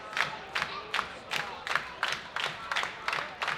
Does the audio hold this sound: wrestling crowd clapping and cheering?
yes